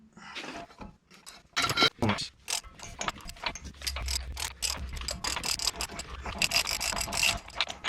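A ratchet clicks in rapid bursts as it breaks loose a nut during CV axle replacement on a 1999–2007 vehicle, close and fairly loud over a low mechanical rumble.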